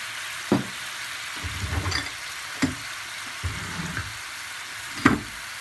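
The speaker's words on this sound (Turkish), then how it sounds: "Az bir soteleyip bunu da kızartmamızın üzerine dökeceğiz" Tomato sauce sautéing in a frying pan over an open flame with salt and a little sugar added, giving a soft steady sizzle broken by a few sharp spoon knocks and scraping stirs against the pan.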